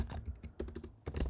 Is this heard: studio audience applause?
no